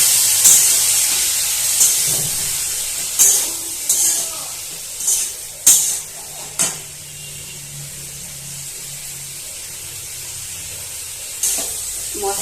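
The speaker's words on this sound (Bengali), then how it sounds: "এবার ওই গোটা মশলাটা আমি অ্যাড করে দিচ্ছি আদা ধনে জিরে আর শুকনো লঙ্কা কাঁচা লঙ্কা দিয়ে" Whole spices, ginger, coriander, cumin and dried and green chillies hit hot oil in a frying pan while cooking a catfish curry, giving a loud steady hiss with several sharp sizzling bursts.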